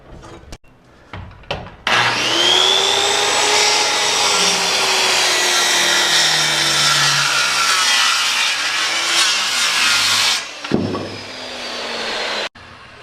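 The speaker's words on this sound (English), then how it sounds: "I also ripped this on a bevel, hopefully to a very close degree of what a 412 is." A power saw rips a board on a bevel cut: the motor spins up into a steady, loud cutting whine for about eight seconds, then stops, with a few knocks before and after.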